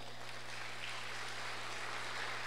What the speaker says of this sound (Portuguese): Vamos dar uma salva de palmas a essa palavra?